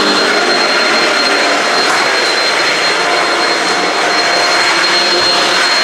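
A Shark vacuum cleaner runs steadily in a resort room, a loud, continuous motor whine with airy suction noise that holds an even level throughout with no pauses.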